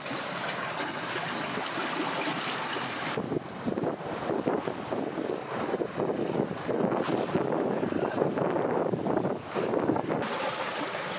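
A sailboat sails through reef waters off remote Panama under a new mainsail in light wind, with a continuous rush of wind buffeting the microphone over water wash and hull noise, and no talking.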